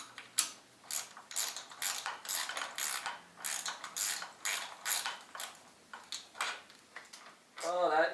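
Socket ratchet loosening a 13 mm bolt on a BMW, a close, loud series of quick clicking pawl bursts in irregular spurts, with brief pauses between runs.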